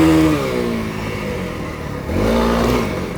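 Honda CRF300L dual-sport motorcycle fitted with street tires, its engine loud and close, revving up as the ride begins, pitch dipping then climbing again, no talk.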